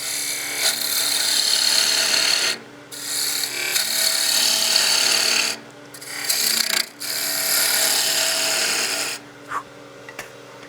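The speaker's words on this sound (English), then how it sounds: "I'm going to be rubbing that bevel and then I'll slowly raise the handle, dropping the cutting edge into the piece" Gouge peeling a side-grain cut on a wood lathe while turning a Christmas gnome, a loud continuous rasping shear broken by three short pauses as the tool lifts off the spinning piece.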